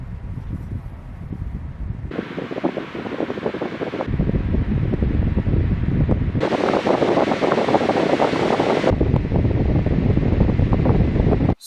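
An electric fan blows straight into the built-in microphone of a Sony ZV-1 camera, producing loud, steady, low buffeting rumble whose tone shifts abruptly in blocks over several seconds, with no speech.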